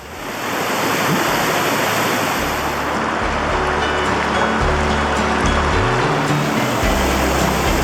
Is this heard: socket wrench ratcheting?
no